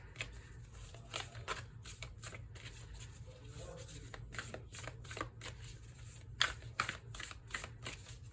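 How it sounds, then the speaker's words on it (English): Tarot cards are shuffled by hand in quick repeated riffles and slides, close and fairly soft, with brief pauses between bursts and no talking. "I'm going to go ahead and pull a self-care card for you"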